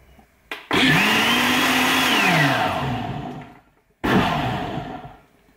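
Smoothie blender on its auto-clean mode, a loud near motor whir that revs up, holds with a churning rush of water, then winds down and stops, followed by a second short burst.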